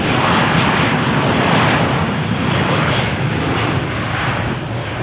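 British Airways jet bound for London Gatwick takes off from runway 13 at Malaga Airport on a stormy morning, a loud, continuous broadband engine roar close by, with no voices.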